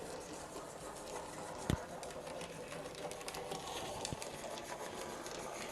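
A Sonic Models LNER J50 model steam locomotive runs along a model railway track with a slight wobble, giving a faint, steady mechanical whirr and light rhythmic rattling, with a couple of soft clicks.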